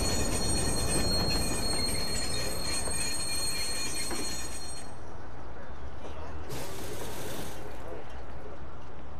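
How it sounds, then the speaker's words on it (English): In the video game Watch Dogs, a train arrives at a station with loud, continuous rumbling and high metallic wheel squeal that fades partway through, leaving a lower rolling rumble with a brief hiss burst. "Northbound train, arriving shortly."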